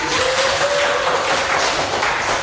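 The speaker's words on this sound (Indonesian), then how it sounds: "Wih, pinter banget ya, cari tepuk tangan dong." Classroom applause fills the room, a steady wash of many hands clapping together for a couple of seconds, with a faint tone running briefly beneath it.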